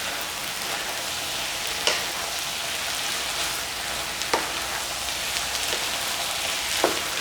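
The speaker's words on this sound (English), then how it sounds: "We'll just stir fry." Vegetables stir-fried with hoisin sauce in a wok at a Cantonese cooking station make a steady, close sizzle with soft scraping stirs and a few sharper clinks of the spatula.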